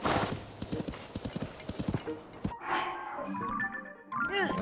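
Horse hooves clip-clop in a steady trotting rhythm in a Zelda video game. After the hoofbeats stop, a few sharp game sound effects follow.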